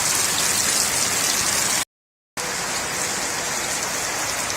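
Steady rain falls on a Streamlight Siege lantern lying in a puddle, a dense, even hiss of drops on water and plastic that cuts out briefly for about half a second and then continues unchanged.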